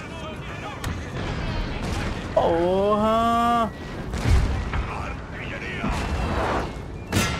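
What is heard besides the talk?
gunfire and artillery in a video game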